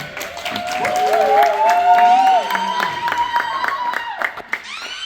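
A crowd claps and cheers for a caterer at a Father's Day gathering in a Compton community center, lively applause with whoops under a loud announcer's voice and music tones.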